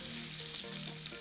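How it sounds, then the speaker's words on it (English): Curry leaves fry in hot oil in a pan, giving a dense, continuous sizzle with crisp crackles and pops, close and steady for a short moment. "I'm just gonna keep mixing up until it starts sizzling"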